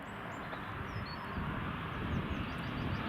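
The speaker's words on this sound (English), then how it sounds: "KLM's in next. It's a 737-800." A KLM Boeing 737-800 arrives in crosswind at Newcastle Airport, a faint, steady engine rumble mixed with wind noise and building slightly toward the end.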